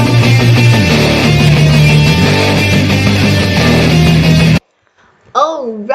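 A song plays loud and full with a steady beat and melody, cutting off abruptly near the end before a voice begins speaking.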